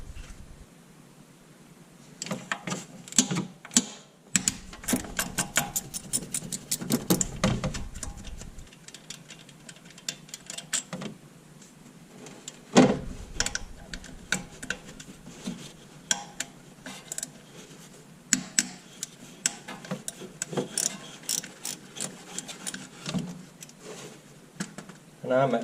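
A ratchet clicks in quick, repeated runs while 10mm bolts come out of the shifter motor on a 2000-2003 Honda Rancher ES 350 ATV, with metallic ticking bursts through the clip and someone talking between them.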